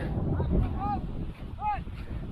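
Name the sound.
wind at a beach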